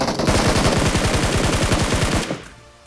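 Rapid automatic gunfire from the mobile battle-royale game BGMI (PUBG Mobile), a loud, close, sustained burst of evenly spaced shots lasting about two seconds before cutting off.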